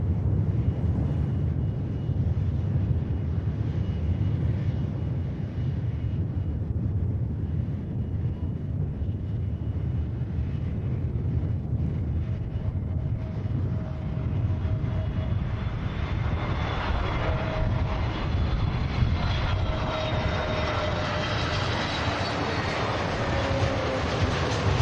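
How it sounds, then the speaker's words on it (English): An Airbus A320neo airliner at Manchester Airport gives a continuous heavy engine roar that swells near the end, with a rising whine layered on top. "Airbus A320neo"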